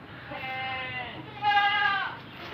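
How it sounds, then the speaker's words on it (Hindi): A goat offered for sale at a livestock market bleats twice in a row, a long wavering cry followed by a louder one, close and clear with no talk over it. "ये मेरे पास बकरी है"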